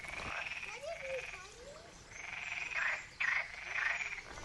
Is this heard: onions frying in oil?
no